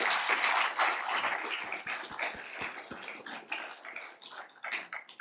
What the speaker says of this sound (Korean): 박수 한번 드리면 어떠실까요?